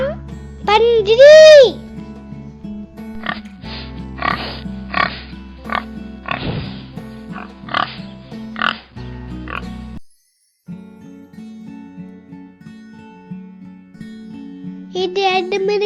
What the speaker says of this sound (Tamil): இதுதான் பன்றி.